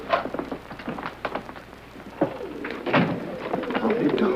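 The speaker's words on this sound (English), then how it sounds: "Sounds like pigeons." A flock of carrier pigeons coos steadily nearby in soft, overlapping, throaty calls, with light background noise and no one talking.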